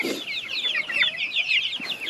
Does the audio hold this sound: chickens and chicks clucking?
yes